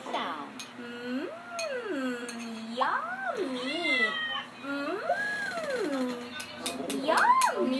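A cat meows repeatedly, about four or five rising-and-falling meows in a row, close and fairly loud, with a brief chime-like clink early on.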